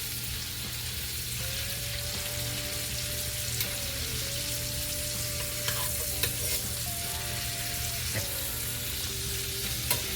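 Lobster and salmon frying in a pan at a log cabin, a steady, dense sizzle with scattered pops and a faint tonal whine weaving through, no talking.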